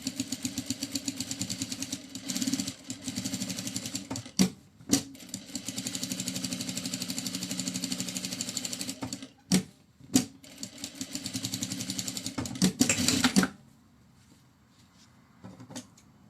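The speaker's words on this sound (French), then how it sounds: "Cette petite couture, elle va venir fermer notre ouverture qu'on a ici." A sewing machine stitches a seam on a fabric pouch, a close, fast mechanical whir that runs in long steady bursts, broken by a few sharp clacks and short pauses, then falls quiet near the end with no talking.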